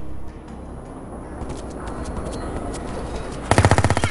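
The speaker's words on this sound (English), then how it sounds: "Just takes a couple of shots at one of the guys in the distance" A rapid burst of gunfire from the first-person shooter Project IGI at a trainyard, about eight sharp, evenly spaced shots cracking out loud and close after several seconds of steady low ambient hum.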